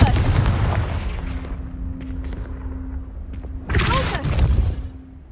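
A blasting spell from the video game Hogwarts Legacy goes off as a sharp explosive burst with a crackling rumble, following a run of heavy impacts, booms and a sustained magical hum.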